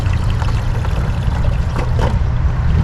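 Fluid pours steadily through a bent nozzle into a vehicle's fuel tank with a gurgling, rushing sound over a low rumble, continuous and close for a few seconds.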